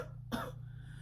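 A single short cough imitated by a voice, one brief throaty burst over a low steady hum in a quiet room.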